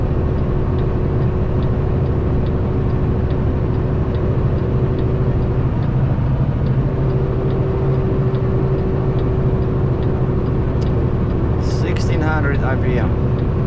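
A Volvo EC380EL excavator diesel engine running steadily at high revs near Beatty, Nevada, a constant loud drone with someone talking over it and some brief chirps near the end.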